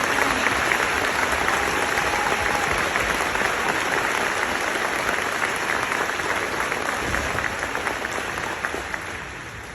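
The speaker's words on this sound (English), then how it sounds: "can we just give a round of applause to all the institutions that support our" A crowd at a military battalion deactivation ceremony gives sustained applause, a loud dense clatter of many hands that holds steady for several seconds before easing slightly.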